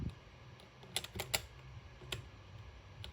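Scattered computer keyboard key presses during a Roblox game, a few sharp clicks clustered in short bursts over a low, steady background hum, with no talking.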